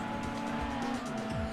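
A car slides and squeals its tires in the racing game Gran Turismo 2, a brief strained tonal screech over engine drone lasting under two seconds.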